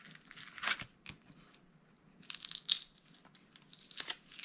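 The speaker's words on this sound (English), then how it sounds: "So I'll peel away that backer." The paper backing is peeled off a Velcro dot up close. Faint crinkly tearing and rustling come in short bursts over about four seconds.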